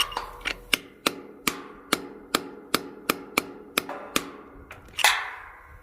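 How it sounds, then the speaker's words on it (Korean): A hammer drives an anchor bolt through a base plate on a warehouse column base, about twelve sharp metallic strikes at an even pace, close and alone, ending with a heavier clank. "이렇게 했을 때 잘 되면 이게 조금 더 때려야겠다."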